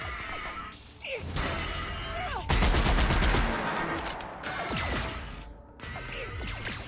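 Heavy-recoil gunfire in The Outer Worlds comes as loud, dense bursts of shots and impacts throughout, mixed with shrill game effects and chaotic combat noise.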